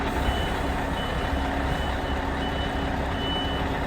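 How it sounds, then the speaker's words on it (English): A truck's reversing beeper sounds under a loud, steady engine rumble, its beeps faint and regular against the close mechanical noise. "I don't very often reverse with the blooming noisy idiot beeper going beep beep."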